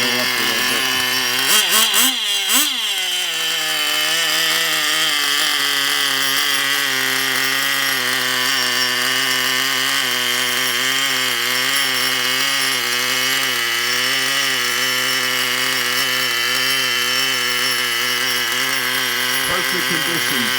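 Small engine on a model sitting months on the shelf runs low on fuel, a steady buzzing drone with strong harmonics whose pitch creeps upward, after a few sharp revving blips at the start.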